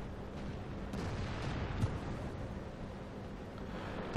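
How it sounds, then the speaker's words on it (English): Tank cannon fire and incoming shots in World of Tanks, with a Type 4 Chi-To under attack, as a dense, continuous rumbling din of distant gunfire and blasts with no clear talk. "They're obviously shooting at me already."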